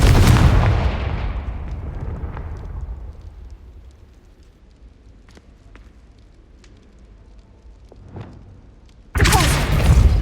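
A Confringo spell explodes in the Hogwarts Legacy video game: a loud, close boom that decays into a long rumbling tail, with faint scattered effects, then another sudden loud blast near the end.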